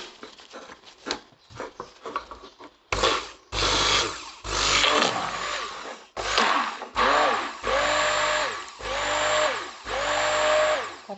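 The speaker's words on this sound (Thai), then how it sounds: "เครื่องปั่นมือถือก็ดูให้เหมาะมือนะคะ" A handheld stick blender mixing turmeric-honey hot-process soap whirs in repeated short bursts, starting and stopping with a rising motor whine, close and loud.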